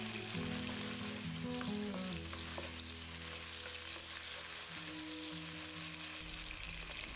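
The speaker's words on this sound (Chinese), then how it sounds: "再把蒜片加进来翻炒一下" Garlic slices stir-fry in a wok for minced-pork eggplant, giving a continuous soft sizzle and hiss with faint stirring, low-level and unbroken, and no one speaking.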